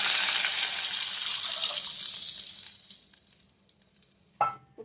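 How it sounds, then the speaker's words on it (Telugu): Water poured from a small vessel into a cooking pan for vermicelli upma, a steady splashing stream that tapers off over a few seconds, followed by a faint clink of utensils near the end. "ఒక లోటాడు నీళ్లు పోస్తున్నానండి."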